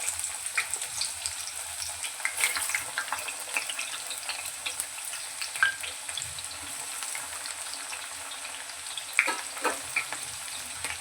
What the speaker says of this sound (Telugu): ఈ కాకరకాయలు బాగా ఎర్రగా అయ్యే వరకు వేయించుకోవాలి